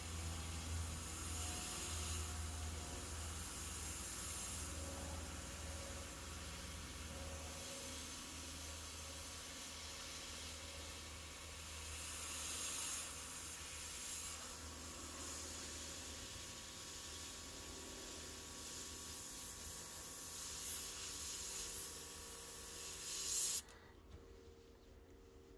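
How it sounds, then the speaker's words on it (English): An airbrush sprays paint onto a handmade balsa wood crankbait lure, giving a steady, close, continuous hiss that runs unbroken for most of the stretch before cutting off sharply near the end. "I'm going to turn down the power on my airbrush so that way I don't get a splatter"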